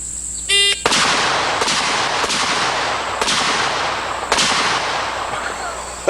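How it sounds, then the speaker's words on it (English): Smith & Wesson 686 revolver fired five times, each shot a sharp loud crack with a long reverberant tail, spaced unevenly about a second apart, preceded by a brief electronic beep. "let's shoot it the wrong way first. 5 shots the wrong way."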